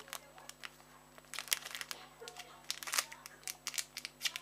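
Blunt scissors cutting open a sachet, quiet close-up snips and crinkling plastic in irregular bursts over a faint steady hum.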